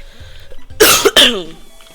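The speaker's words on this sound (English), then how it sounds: "that cough just erased my memory" A single person coughs twice in quick, harsh bursts close up during a gaming session, with faint background sounds before.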